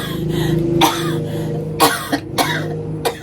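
Several harsh coughs burst out one after another, close and loud, with a low hum beneath and short pauses between them.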